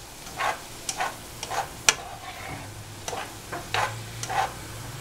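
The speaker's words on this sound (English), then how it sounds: "this is simmering nicely, and you can smell the cumin" A cumin sauce simmers in a pan with a quiet, steady bubbling hiss, broken by scattered light clinks and scrapes of a utensil against the pan, heard close with no talking.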